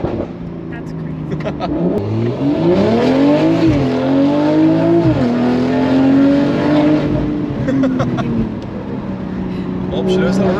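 Loud revving from a BMW G42 M240i fitted with a Valvetronic Designs exhaust, the engine pitch rising in repeated surges with brief drops between gear shifts, voices speaking alongside.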